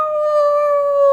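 A single sustained wolf howl, loud and close, holding one clear pitch steadily throughout.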